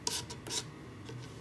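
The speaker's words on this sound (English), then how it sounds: "you can really lightly just go over this" A sanding block rasps lightly over a painted wooden tiered tray in short back-and-forth strokes, two firm scrubbing passes followed by softer, fainter ones, close up with no talking.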